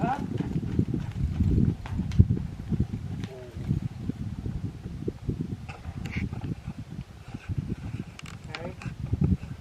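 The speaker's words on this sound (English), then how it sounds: "I think that a horse needs to be able to settle in comfortable in a long trot" Horse trotting in a long trot on a ridden pony, steady rhythmic hoofbeats close by, with a rider talking throughout over the footfalls.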